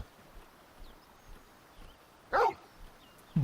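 A dog in the video game Final Fantasy XVI gives a single short, moderately loud bark over a quiet ambient background, with a faint second sound at the very end.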